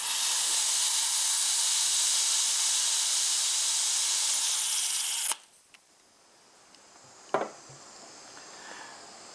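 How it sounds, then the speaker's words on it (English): Pressurized butane gas hisses steadily for about five seconds while refilling a lighter, then cuts off abruptly, followed by near quiet and one brief sharp spurt. "press for about 5 to 10 seconds until gas spray back"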